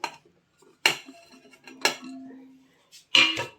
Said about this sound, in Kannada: ಈಗ ಹೆಚ್ಚಿರೋದನ್ನ ಒಂದು ಪಾತ್ರೆಗೆ ಹಾಕ್ಕೊಳ್ತಾ ಇದ್ದೀನಿ.